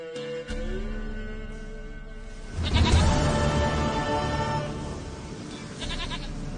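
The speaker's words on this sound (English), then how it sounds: "Goat of mine, dearest, sweetest goat." A goat bleats in the video game The Witcher 3: one long, wavering, nasal cry that swells loudly, backed by a steady ambient drone with a brief second call at the end.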